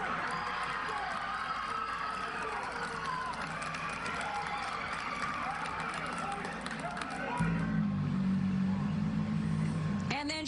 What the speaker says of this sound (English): And then shortly after that cheering in the courtroom here at Queens Criminal Court